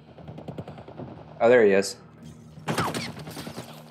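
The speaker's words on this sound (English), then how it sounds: "I hear a shotgun." Gunfire in the video game The Last of Us, two short loud bursts of shots about a second apart, with someone talking between them.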